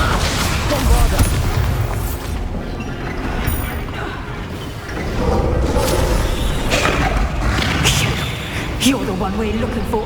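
Bombarda explosion spell in Hogwarts Legacy, booming thuds and blasts mixed into busy combat noise, with a voice speaking over the impacts.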